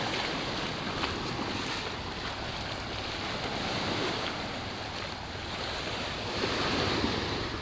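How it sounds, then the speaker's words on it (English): Ocean surf washes steadily along a shoreline where shells are gathered, a broad continuous roar of breaking waves mixed with wind buffeting the microphone, loud and close, with no voices. "the ocean definitely has its own special sound for sure"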